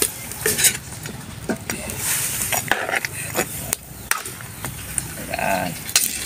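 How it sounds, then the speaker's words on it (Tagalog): Spoon stirring boiling chicken broth seasoned with soy sauce and sugar in a pot, irregular scraping and clinking of metal against the pot over a low bubbling simmer, close up, with occasional talk. "haluin po natin para ma-mix po"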